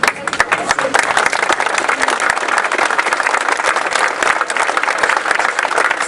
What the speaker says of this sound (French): Ces applaudissements spontanés mesurent à quel point je l'apprécie